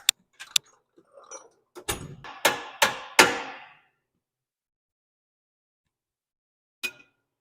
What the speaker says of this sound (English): get a hammer and pound that guy out.